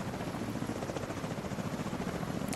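A helicopter in a video game gives off a steady, fairly faint rotor drone with a rapid chopping flutter that holds throughout, with no voices.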